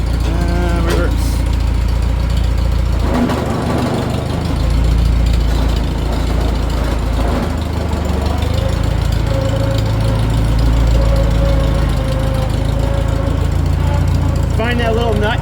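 A Farmall C tractor engine running, with a loud, continuous low rumble and knocking chug that shifts as it works through gears, close to the microphone, with voices talking over it.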